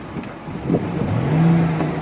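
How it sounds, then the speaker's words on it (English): A 2008 Chevy Express Explorer high-top conversion van idles steadily, a low engine hum with a faint rise in pitch partway through, close by and with no talking. "The van is running."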